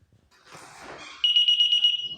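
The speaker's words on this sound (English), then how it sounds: "If you open up a door, because it has sensors on it, it will actually," ADT alarm system door chime triggered by a door sensor: after a soft shuffle of the door opening, a loud, piercing electronic beep pulses rapidly and evenly, close up, with no talk.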